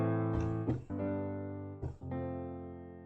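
Sustained chords of an emotional 1-7-6 progression played on a software instrument in FL Studio, three rich harmonic chords changing at steady intervals, clear and alone with no voices.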